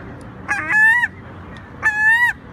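Seagull calling up close, two loud drawn-out honking cries separated by a short pause, clear against a quiet background with no talking.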